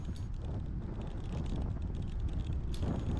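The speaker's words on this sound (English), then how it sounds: "the wind is still blowing from every different direction" Wind buffeting a microphone on a bicycle ride during a 300 km brevet, a constant low rumbling roar with gusty rustle and no talking.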